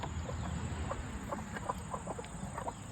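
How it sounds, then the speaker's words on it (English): Leghorn hens in a coop cluck in scattered short bursts, faint and somewhat distant, over soft rustling and scratching. "both of the leghorn hens are laying in this coop"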